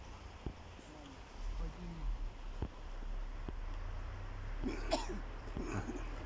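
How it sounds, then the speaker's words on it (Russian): A person coughs outdoors in a Saint Petersburg garden in early March, with several short, faint coughs spread across the clip and a slightly louder burst near the end, over low rumbling background noise. "И еще один кашляет."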